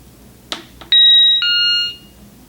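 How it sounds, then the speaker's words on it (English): A GE Interlogix NX security system keypad chimes as a front door is opened: a couple of clicks, then two bright electronic tones ringing loud and close before fading out. "And you should hear a chime just like that"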